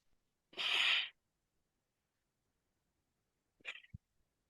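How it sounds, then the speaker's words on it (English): A close, breathy nasal exhale during a workout sounds once, followed after a pause by a short sniffing inhale with a soft thump, otherwise quiet. "you hear me breathing, breath in and out through the nose"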